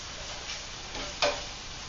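Onions caramelizing with butter and sugar in a frying pan for a tofu breakfast stir fry give a faint, steady sizzle with a soft clatter of stirring partway through.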